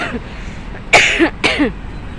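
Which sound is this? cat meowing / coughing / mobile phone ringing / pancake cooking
coughing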